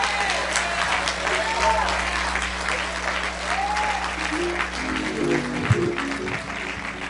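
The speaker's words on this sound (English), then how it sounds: "would you give God your best hand clap?" A church congregation gives a sustained round of hand clapping, a dense roar of applause filling the room, with voices and shouts rising over it.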